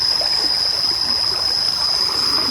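Water current flows steadily through a flooded rice field, a continuous close trickling and rushing wash that carries on without break for the whole stretch, with no voices.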